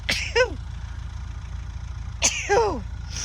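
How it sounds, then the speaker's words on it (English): Two sneezes, each with a sharp intake and explosive burst, about two seconds apart, over a steady low rumble like an idling engine. "Excuse me while I sneeze."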